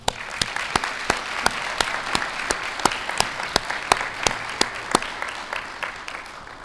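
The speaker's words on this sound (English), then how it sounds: "Let's give them a round of applause." Applause from an audience at a police department promotional ceremony in Suffolk, Virginia, a steady wash of clapping with a few sharp, loud individual claps standing out near the listener, sustained throughout without speech.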